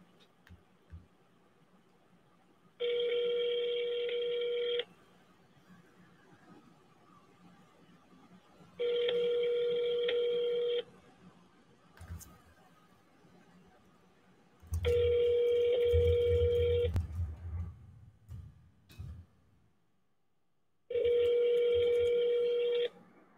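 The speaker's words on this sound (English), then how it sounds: "All right, let me try and call him back." An outgoing telephone call rings back four times, each a two-second electronic ringing tone separated by quiet pauses, with a soft low thump near the third ring.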